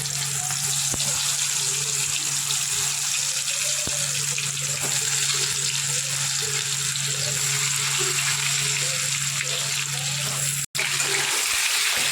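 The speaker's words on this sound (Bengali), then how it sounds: "কড়াতে সরষের তেল দিয়ে দিলাম, তেলটা ভালো করে গরম হয়ে গেছে। এখন আমি আলুগুলো ভেজে নেব।" Potatoes fry in hot mustard oil in a wok with a continuous, even crackling sizzle under a faint steady hum, with no talking.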